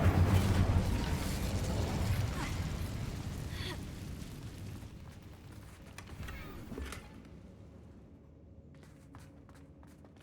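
Roaring burst of fire from an Incendio spell in a Hogwarts video game, loud and dense at first, then thinning into a fading crackle with scattered small pops over about ten seconds.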